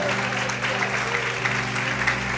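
A church congregation claps during a worship service, steady crowd applause under a sustained musical tone, with voices mixed into the wash of clapping throughout.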